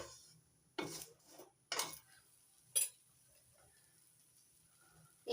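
A spoon or spatula stirring a raw mango spice mixture in a pan, giving a few spaced, sharp scraping clinks against the metal with quiet pauses in between and no voices.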